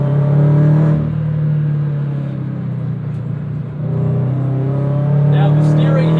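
A supercharged 2013 Scion FR-S engine with owner modifications hums and revs steadily at close range, a strong low droning tone that dips briefly midway and swells again toward the end.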